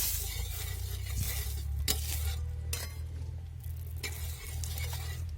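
Pumpkin dhapate flatbread cooks on an oiled griddle with a steady low sizzle, broken by a few sharp scraping clinks of a utensil against the pan.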